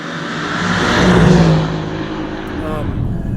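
A 2020 Mercedes-AMG GLC63 S Coupe engine revs up loudly, peaks, then drops as a gear changes, followed by a steady rising whine, heard from inside the vehicle.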